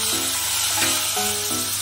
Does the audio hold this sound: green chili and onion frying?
yes